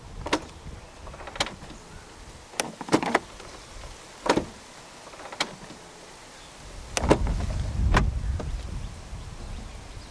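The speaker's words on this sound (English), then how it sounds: "This Flying Spur also does come with self-closing doors." Doors on a 2006 Bentley Continental Flying Spur pull themselves shut, giving a string of sharp clicks and soft thuds with a motorised whir near the end, heard up close in a quiet setting.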